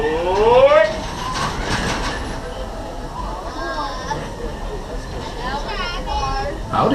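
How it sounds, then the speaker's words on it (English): Walt Disney World Railroad train at Magic Kingdom rolling along with rhythmic wheel clatter and brief squeals, steady and close, while people talk over it. "welcome aboard the Walt Disney World Railroad"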